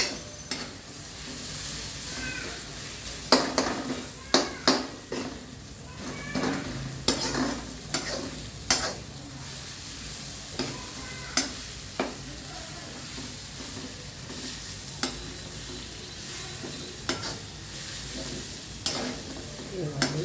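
Curry leaves fry in oil for a mint chutney, a steady sizzle beneath repeated sharp clinks and scrapes of a spoon stirring against the pan.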